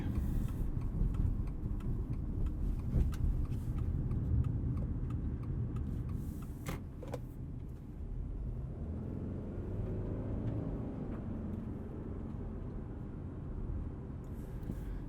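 2020 Subaru Outback driving on a rough road, a quiet cabin with low road rumble and scattered small clicks and ticks over fifteen seconds, no voices.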